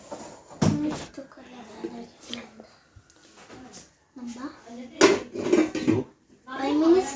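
Chicken momo filling being mixed in a metal bowl, with irregular clinks and scrapes of utensil against the bowl in short bursts, up close, and a voice talking in between.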